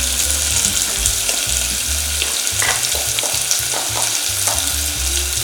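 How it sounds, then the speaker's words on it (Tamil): Onions and curry leaves sauté in a pan while making Bombay chutney, giving a loud, steady sizzle and frying hiss with repeated scraping stirs of a spoon against the pan throughout. "வெங்காயம், கருவேப்பிலை, இது வதங்கட்டும்"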